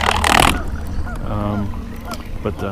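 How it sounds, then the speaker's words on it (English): A Pelican Bass Raider fishing boat's motor runs on a lake as a steady low drone throughout, opening with a loud burst of splashing or wind noise, and a voice briefly sounds over the hum. "Sorry for the motor noise."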